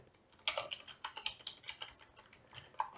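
Fingers type on a computer keyboard, an uneven run of quick, close key clicks and taps with brief pauses, alone without talk.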